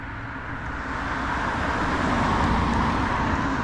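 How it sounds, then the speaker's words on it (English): A car passing on a road, a broad steady roar that swells gently and holds at moderate loudness, with no voices. "Oh, another car coming."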